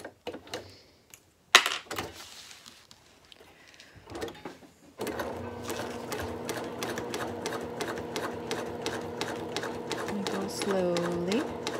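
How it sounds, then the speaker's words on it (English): A sewing machine stitches along the edges of a handbag exterior with a narrow seam, whirring steadily and close after a few seconds of handling noise, with someone talking over parts of it. "I sew along these edges with 1/8 of an inch seam allowance"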